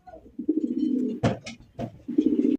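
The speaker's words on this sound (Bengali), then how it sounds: "মাশাআল্লাহ রেসার কবুতর" Racing pigeons coo close by in soft, low, rolling phrases, three or four throaty bursts broken by short pauses, with no talking.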